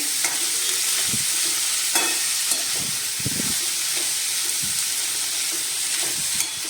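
Vegetables for Bhogichi bhaji being stirred in hot oil, a continuous sizzle and hiss with intermittent scraping knocks of the spoon against the pan.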